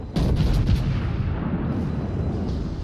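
Torpedoes launch from the Scharnhorst battleship in a naval video game as a quick series of heavy booming bursts at the start, leaving a long rumbling rolloff with no talk.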